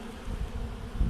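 Honeybees swarming a long Langstroth hive in a robbing frenzy, a steady low droning buzz close by with slight swells in loudness and no voices.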